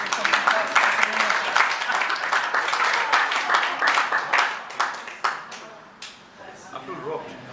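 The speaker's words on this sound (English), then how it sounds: "Please give them a nice round of applause" Dinner audience at a magic and mentalist show breaking into applause, a dense burst of clapping that gradually thins out, with voices chattering underneath.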